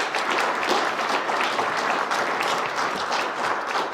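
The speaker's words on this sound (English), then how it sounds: "they deserve a round of applause" A crowd applauds steadily for city workers at Reading Mayor Eddie Morán's 2022 State of the City address: dense, even clapping that holds at a constant level for the whole stretch, with no voices over it.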